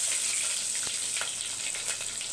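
Fenugreek, fennel and cumin seeds crackle and fry in hot oil for a South Indian sambar, giving a close, steady sizzle with small pops and no voices.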